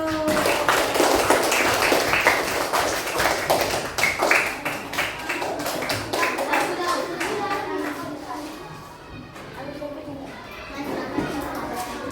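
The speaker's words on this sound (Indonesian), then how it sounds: "Oke, tepuk tangan dulu." Children in a classroom clap their hands together, a quick run of taps and claps with young voices chattering over it, fading a little toward the end.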